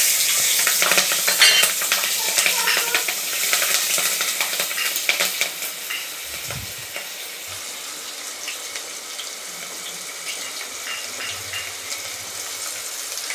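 Cumin, green chillies and onion frying in a pan for a fish curry, a loud close sizzle with scraping stirs that gradually softens into a steadier, quieter hiss.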